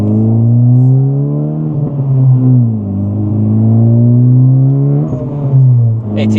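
A 2025 Honda Civic Type R FL5 engine hums loud and close from inside the cabin on a test drive, its tone rising and falling through several gentle accelerations and shifts, with no talk.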